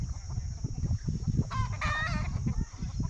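Desi country hens cluck in low, busy bursts close by while a rooster crows once midway, its call rising clearly over the flock's steady chatter in a farmyard.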